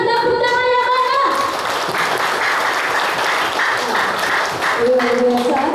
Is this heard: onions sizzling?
no